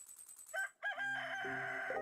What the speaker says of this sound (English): Big ol' rooster vibes.